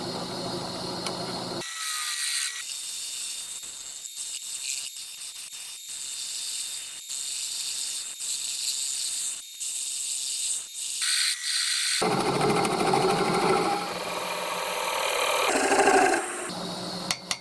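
A wood lathe turns off the tenon from the base of a turned piece, giving a steady mechanical whir with scraping and light ticking from the tool, and a louder, rougher stretch near the end, with no talk.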